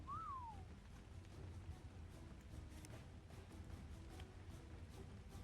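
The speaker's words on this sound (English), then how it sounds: "Let's whistle Sid over here." In the video game Ark: Survival Ascended, a player gives one short whistle to call a creature. The brief sliding whistle sounds once at the start over steady game ambience.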